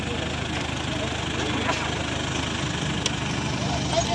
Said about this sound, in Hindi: ऐसी ट्रैक्टर ट्राली आ गई है